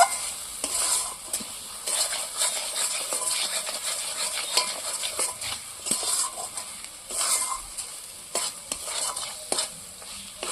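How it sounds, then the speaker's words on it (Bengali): Salted spice paste for a fish curry sizzles steadily in a pan while a spoon stirs and scrapes through it again and again, close and clear with no voices. "এবার এটাকে আমি ভালো করে কষিয়ে একটু ভেজে নেব"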